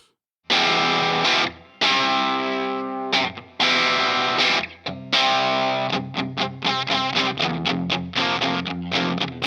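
Harmony H7208 Roy Smeck guitar with a double bound body and neck, played through heavy distortion and phaser, loud chords with stops and then a quicker choppy rhythmic strumming, no talk.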